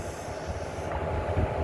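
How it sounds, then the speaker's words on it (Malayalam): Kollam Express passenger train (16101/16102, Chennai Egmore route) rolling past, a low rumbling rattle of carriages with rough mechanical clatter, close and steady for a moment, without speech. "അപ്പോൾ ഈ ട്രെയിനിലാണ് നമ്മൾ പോകുന്നത്."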